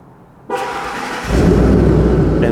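A Ford truck fired up by remote start from a key fob: a sudden engine crank and catch, then a steady idle that settles into a louder, deeper rumble, close by.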